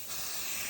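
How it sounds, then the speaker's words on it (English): A short, steady aerosol hiss of basting spray being sprayed onto quilt fabric and batting, close and soft, heard alone. "So you're just gonna spray it down, and then when you're done, it's gonna stick together."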